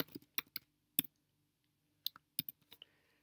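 Clicky keystrokes on a computer keyboard come in short bursts with a pause in the middle, close and fairly quiet, with no talking.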